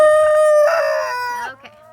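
A rooster crows loud and close in a flock of backyard chickens that includes Polish, frizzle and naked neck breeds, one long ringing call fading at the end, with no talking.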